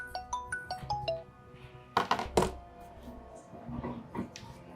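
A phone ringtone plays a rapid run of bright, repeating electronic notes nearby, followed by indoor clatter and faint household noise.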